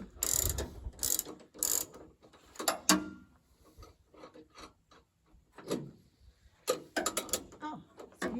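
A sawmill's blade tensioner wheel is turned by hand, giving a run of close mechanical ratcheting clicks and creaks in uneven bursts with short pauses between them.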